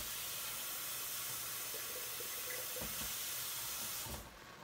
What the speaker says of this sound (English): And then I'm going to fill this up with water.